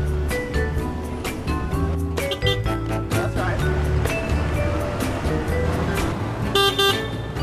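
A street-legal golf cart built with high-end auto parts sounds its horn in city traffic among taxis, buses and limos, with several short honks over busy road noise and other vehicle horns.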